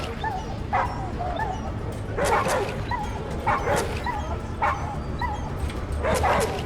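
A fighting dog named Blood in the ATOM RPG video game gives repeated barks, yips and whimpers in uneven bursts. The bursts are close and fairly loud over low background game sound.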